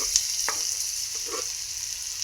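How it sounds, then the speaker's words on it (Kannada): Onions frying in hot oil with mustard seeds and cumin for paneer bhurji give a steady, close sizzle with a few soft stirring clinks and crackles, with no talking. "ಚಟಪಟ ಅಂದಮೇಲೆ ಈರುಳ್ಳಿ ಹಾಕ್ಕೊಳತ್ತೀನಿ ನೋಡ್ರಿ"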